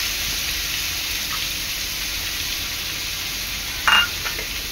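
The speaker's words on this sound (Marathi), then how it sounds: "ह्याच तेलामध्ये कढीपत्ता आणि बारीक चिरलेला कांदा टाकायचा आहे" A steady, broad sizzle of curry leaves and chopped onion frying in hot oil continues throughout, with a single brief utensil clink near the end.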